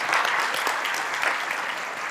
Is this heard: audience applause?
yes